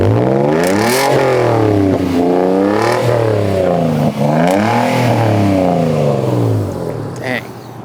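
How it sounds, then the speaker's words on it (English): Toyota Tacoma long-travel truck engine revving repeatedly with a deep exhaust note, rising and falling in several strong pulls close by, loud and steady throughout. "Let's see if we can get the sound in."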